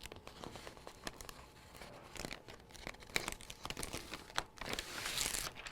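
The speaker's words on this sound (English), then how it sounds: "once we peel it off, we want to make sure that we place our adhesive backing facing up" Adhesive embroidery backing is peeled from its paper, giving close crinkling, tearing and rustling handling sounds in irregular bursts, with a brief sharper rip near the end.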